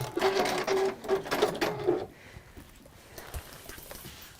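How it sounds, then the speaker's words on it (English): A sewing machine stitching a seam through fabric runs in rapid, steady bursts for about two seconds, then stops, leaving quiet room tone with a faint thump. "So sewing the seam, pressing away, and then folding that seam right onto the very top."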